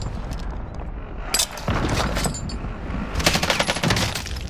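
Rapid automatic gunfire and scattered shots in a Call of Duty match, bursts of machine-gun fire rising and falling with louder volleys toward the end.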